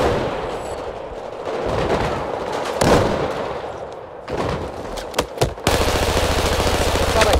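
Battlefield 4 gunfire: bursts of rapid automatic shots and sharp single cracks, loud and close, clustering toward the end over a background of battle noise.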